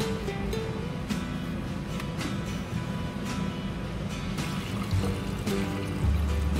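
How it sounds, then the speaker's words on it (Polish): Water pours steadily into a large pot lined with a cloth, filling around glass jars set apart from one another, with a continuous splashing trickle that runs for several seconds at close range. "Zalej wodą do wysokości 2 cm od wieczka."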